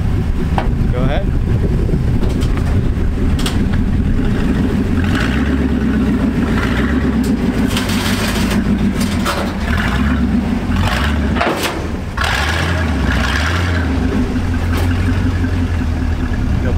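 Vehicle engine, the OG 98, driving up onto a 2022 Diamond C HDT trailer, a steady loud mid-range engine drone with some revving throughout, squeaking brakes possible, with voices talking over it.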